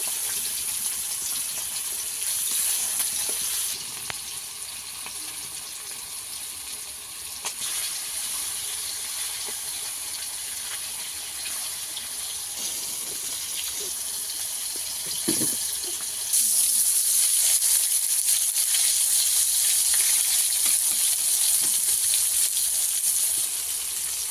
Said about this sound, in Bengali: মাছগুলো আমি ভালোভাবে উল্টো পাল্টা ভেজে নেবো